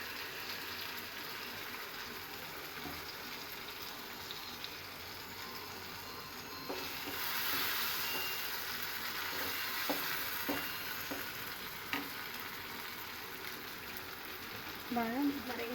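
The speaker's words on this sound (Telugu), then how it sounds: "బాగా మరిగించాలి." An egg curry with tamarind juice bubbles in a pan, making a soft, continuous sizzling and simmering hiss with occasional faint pops and clinks, quiet and without talking.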